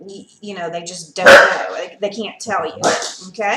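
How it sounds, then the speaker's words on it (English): A pet dog barks and yips a few times in the background of a home while a person keeps talking over it nearby. "And that's my dog barking."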